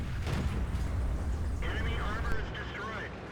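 A single cannon shot booms early from a T21 tank during an assault battle on Erlenberg in a tank video game, dull and heavy over constant engine rumble, followed by a wavering whistle-like tone.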